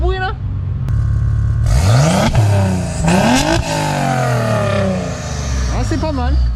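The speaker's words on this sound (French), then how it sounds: "Ça fait un beau bruit quand même cette voiture." Revving of an Audi A6 Allroad with the 2.7 biturbo engine on stanced suspension: several rising, roaring throttle blips close by, each falling back before the next, while voices talk over them.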